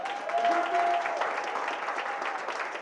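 A school board audience applauds a school team's victory, the Griffins, with full, even clapping from a crowd lasting a few seconds, faint voices and cheers mixed in early.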